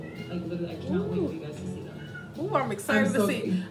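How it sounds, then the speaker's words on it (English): A pet cat meows indoors several times, clear drawn-out cries close by, mixed in with someone talking excitedly over them. "Sorry about my cat, y'all."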